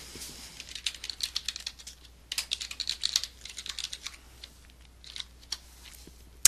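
Login details typed on a computer keyboard: quick, crisp key clicks in uneven bursts with short pauses, close and fairly quiet, no talking.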